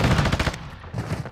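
Call of Duty video game gunfire: a fast, loud burst of automatic shots, then a short pause and a second rattling burst, close and with no talking.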